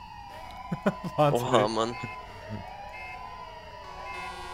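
A police-style siren wails steadily in the Arma 3 Altis Life game during a large vehicle convoy, holding a sustained electronic tone while men exclaim over it early on.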